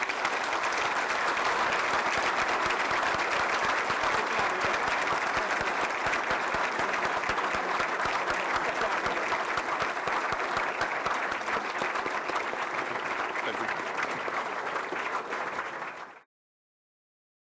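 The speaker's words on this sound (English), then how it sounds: "Please join me in a big round of applause for these." A large crowd at the SHAPE 60th anniversary military ceremony gives sustained applause, a dense, even roar of many clapping hands lasting about sixteen seconds before cutting off abruptly into silence.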